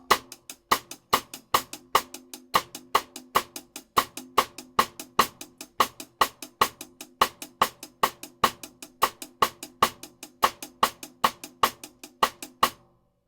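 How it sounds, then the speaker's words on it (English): Dry drum-kit groove: steady bossa nova hi-hat ticks with partido alto accents on rim clicks, sharp and evenly spaced across the whole stretch, close and clear with no voices. "And then if you put that with the rim click,"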